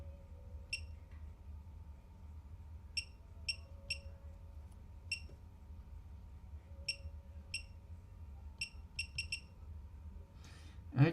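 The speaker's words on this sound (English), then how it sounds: "How do you turn the bloody buzzer off?" Short high electronic beeps from a device buzzer, sounding in scattered bursts and quick clusters of two or three chirps over a low steady hum, fairly faint and close.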